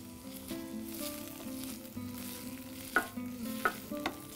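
Tomato, onion, ginger and garlic sautéing in a pan, with a steady sizzle and stirring scrapes, plus a few sharp utensil clinks near the end.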